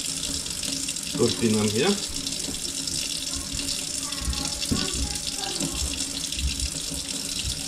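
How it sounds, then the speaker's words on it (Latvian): Warm tap water runs steadily over pistachio nuts being soaked and rinsed in a sink, a continuous close splashing wash with a brief voice speaking over it near the start. "tagad mēs viņas iemērcam siltā ūdenī un atmazgājam"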